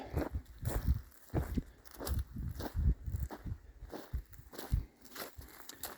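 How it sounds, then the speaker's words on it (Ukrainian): Footsteps crunch across a farm field near a working disc harrow, a steady rhythm of close, soft thuds and rustles, one every half second or so, with no speech. "Це я от ходжу."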